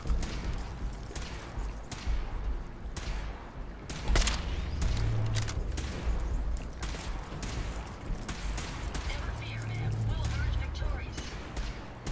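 Gunfire in Fallout 4 survival mode, with repeated sharp shots cracking out at irregular intervals over a steady game backdrop and a person talking throughout.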